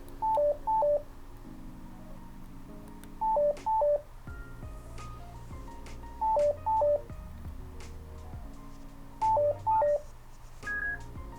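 Sena Talkie outdoor communicator headset in pairing mode, repeated groups of quick electronic beep tones at regular intervals over a low background hum, ending in one higher single beep.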